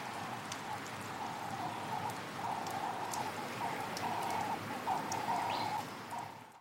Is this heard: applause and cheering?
no